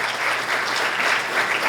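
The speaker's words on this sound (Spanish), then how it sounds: "Un fuerte aplauso, por favor." Steady, dense applause from an audience at an investor and startup event in Ecuador, continuous and fairly close, filling the short moment without any voices on top.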